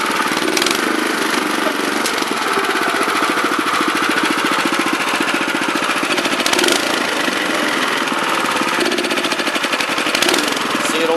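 A Honda FR600 tiller's small engine runs under load with the drive clutch engaged, a loud, steady, close chugging drone that stays continuous for the whole stretch with slight surges.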